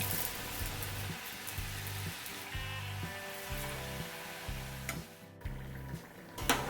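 Murukku deep-fries in hot oil, a close bubbling crackle beneath a steady rhythmic low thumping pulse, with a few sharp clicks near the end and no talking.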